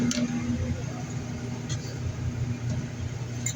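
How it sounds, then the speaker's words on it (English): Truck tires spinning during a truck-crushing event, a steady loud engine rumble with churning low-end roar held continuously throughout, no clear talk on top. "Oh, you're just spinning your tires, man."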